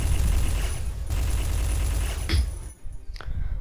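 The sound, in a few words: minigun firing in Garry's Mod video game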